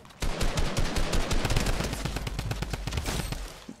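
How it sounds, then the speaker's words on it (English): The drum gun in Fortnite fires a long, rapid automatic burst, with loud, closely packed shots rattling on for several seconds and little pause. "My God, the drum gun is so good."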